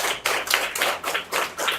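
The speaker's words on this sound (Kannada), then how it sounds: "ಒಂದು ಜೋರಾದ ಚಪ್ಪಾಳೆ ಸರ್ಕಾರಿ ಶಾಲೆ ಮಕ್ಕಳಿಗೆ." Government school children clap loudly in a quick, even rhythm, about seven sharp bursts in unison, close and crisp with no talk over them.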